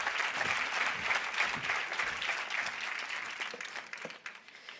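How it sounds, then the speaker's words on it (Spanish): An audience at a congress breaks into applause, a thick wash of clapping that starts strong and thins toward the end as hands drop off into scattered claps. "Un aplauso para Elsa y para Boris"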